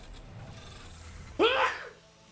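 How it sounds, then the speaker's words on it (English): A single sharp sneeze bursts out against a quiet background. "Don't mind me just sneezing over here."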